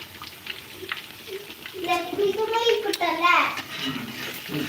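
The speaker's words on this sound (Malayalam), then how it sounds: "നല്ല ചൂട് ചൂട് ഫ്രൈ ആവുന്നുണ്ട് ചിക്കൻ ഫ്രൈ" Chicken frying in hot oil, a steady sizzle and crackle that runs throughout, close and moderately loud, with a voice and other talking heard over it.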